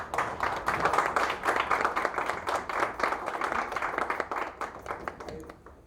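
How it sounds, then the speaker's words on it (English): Audience members at an official event with government ministers welcome a minister with clapping. The individual hand claps sound close and distinct and gradually thin out toward the end. "A round of applause."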